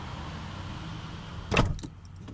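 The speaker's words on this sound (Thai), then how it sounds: "แล้วปิดประตูนะครับ" A car door shuts with a single solid thud partway through, close by, followed by a faint rattle and then a steady low background hum.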